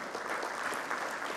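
A church congregation claps together in a brief, steady burst of dense applause, heard at moderate distance with no speech over it.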